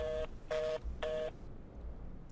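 A phone in a video game dials out, sounding three evenly spaced keypad tones in quick succession, clear and close, followed by a quiet pause.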